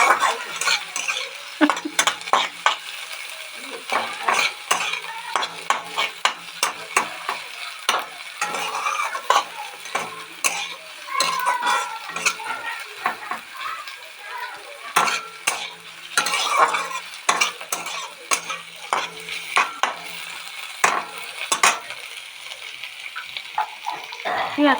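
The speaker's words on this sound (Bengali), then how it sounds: "কাঁচা লঙ্কা ভাজা ভাজা হয়েছে" Onion and green chili sizzle in a pan while a spatula stirs and scrapes repeatedly, the frying hiss steady throughout.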